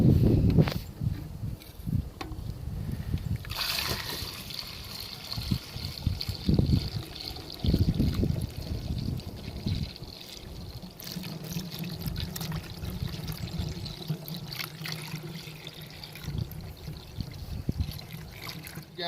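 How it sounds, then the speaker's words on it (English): Mead must of plain honey and water is siphoned and poured into fermentation jugs, giving soft intermittent trickling and splashing with a few handling knocks, fairly quiet and close. "let me get this back into the fermentation jugs. I'll get my siphon"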